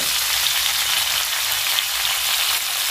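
Cauliflower with turmeric and salt frying in oil, a dense, even sizzle that holds steady and close throughout, with no speech.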